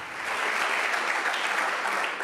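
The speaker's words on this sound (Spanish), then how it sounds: "Si lo crees, dale un aplauso al Señor." Steady applause from a crowd, a dense and even wash of clapping that continues throughout without pause.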